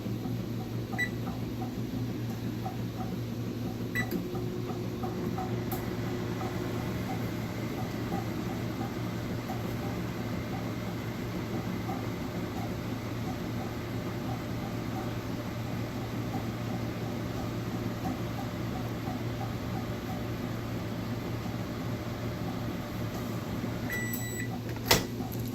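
A microwave oven heating a heat therapy bag hums steadily and loudly for the whole stretch, ending with a couple of faint beeps and a door click near the finish.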